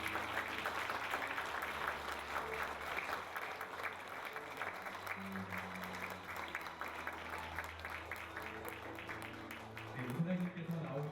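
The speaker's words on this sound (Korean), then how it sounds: "함께 큰 박수 부탁드리겠습니다." Audience at an honorary doctorate degree ceremony at Jeonju University claps steadily in a dense, sustained wash of applause, with a voice speaking over it partway through.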